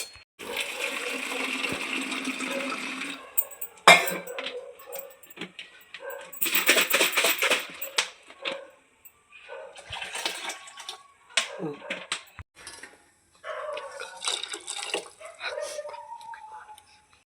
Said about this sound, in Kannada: ಸ್ವಲ್ಪ ನೀರು ಹಾಕ್ತೀವಿ